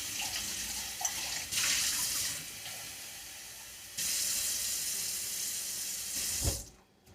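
Water pours and splashes steadily into a pan of melting, caramelizing mixture in two bursts, ending with a short clatter and then quiet.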